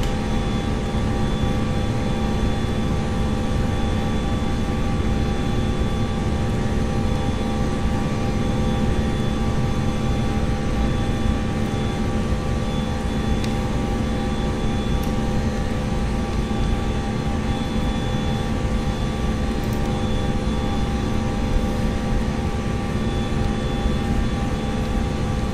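Airliner jet engines hold a steady, loud, droning roar with a faint high whine throughout a simulated takeoff in a flight simulator game, unbroken and with no voices.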